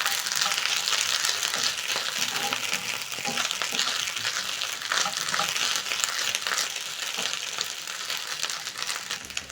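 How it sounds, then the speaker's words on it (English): Kapenta fish sizzle and crackle steadily in a hot pan, a dense, close frying hiss with occasional stirring scrapes. "So as my kapenta is frying"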